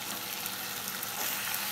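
Boiled pasta being slowly stirred into a sizzling red gravy in a frying pan: a steady, close, broadband crackle that stays even and continuous throughout, with no voices.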